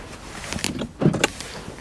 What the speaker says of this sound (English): electric windows on the front